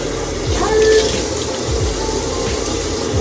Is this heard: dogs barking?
no